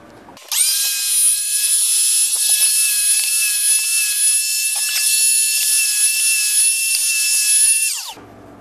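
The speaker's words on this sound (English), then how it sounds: "Let's spin this thing around and we'll freaking hook up the joiner." A wood jointer starts up, its motor spinning to a loud, steady high-pitched whine that holds for several seconds, then winds down and stops.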